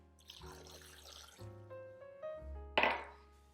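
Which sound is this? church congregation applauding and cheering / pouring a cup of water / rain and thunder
pouring a cup of water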